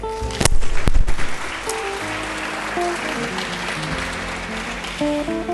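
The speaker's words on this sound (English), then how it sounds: "So I hope we can give ourselves a round of applause" Audience at a university media society launch applauds in a dense, steady patter, with a couple of sharp loud hits early and faint tonal background sounds throughout.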